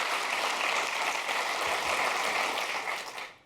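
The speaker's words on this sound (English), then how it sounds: "Thank you very much for that smattering of applause." A light smattering of applause from a conference audience fills the room, steady and dense, then tapers off near the end.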